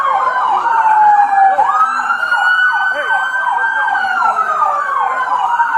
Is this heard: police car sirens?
yes